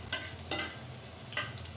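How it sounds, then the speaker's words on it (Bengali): Chopped garlic fries in a pan with a soft, quiet sizzle, punctuated by three brief scraping strokes of a spatula. "30 সেকেন্ড আগে রসুনটা একটু ভেজে নিই।"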